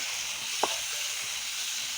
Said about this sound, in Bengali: এই যে মাছ ভাজা হচ্ছে একদম বড় বড় ইয়া